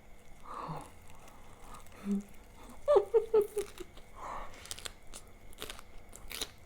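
Someone eating Lao khao soi noodles topped with minced pork, with soft close-up chewing and a quick run of crunchy bites in the middle, set against a quiet room.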